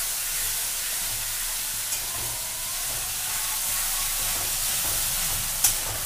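Chili, turmeric, salt and cumin powder sauté into a spice masala in a pan, giving a continuous soft sizzle and hiss with a couple of faint clinks.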